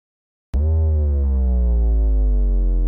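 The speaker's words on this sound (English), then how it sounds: "We have a downer here in the middle." A deep synthetic tone starts abruptly after a short silence and slowly slides downward in pitch, sustained and loud, like a falling downer effect.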